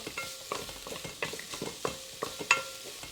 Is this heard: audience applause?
no